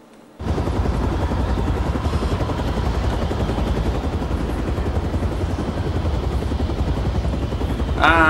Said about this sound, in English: I'm in a helicopter, but I'm not gonna be soon.